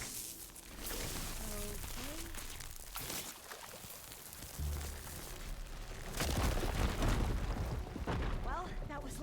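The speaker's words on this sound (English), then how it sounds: "It was an explosion." An explosion in the video game Horizon Forbidden West, a deep booming rumble that swells and rolls on with crackling debris, heard under the game's music and effects while a person talks.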